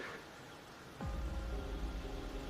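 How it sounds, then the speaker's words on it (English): Rain falling in Wuthering Waves, heard as a soft steady hiss. After about a second a deeper, louder rumble joins it and carries on to the end. "The rain just happened out of nowhere."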